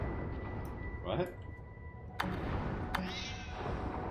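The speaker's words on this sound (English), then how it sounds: "Why is it making cat noises?" A short cat-like meow chirps from a door button in the video game Lightmatter, heard twice as brief rising squeaks over quiet room tone, with a person talking nearby.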